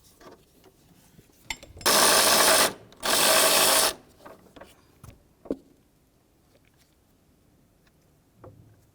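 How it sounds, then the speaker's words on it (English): A power tool spins off an 18mm engine mount nut on a 2000-2005 Buick LeSabre, two loud whirring bursts of about two seconds each, followed by scattered clinks and knocks. "Let's go ahead and remove that nut"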